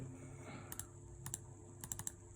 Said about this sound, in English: If you type in your password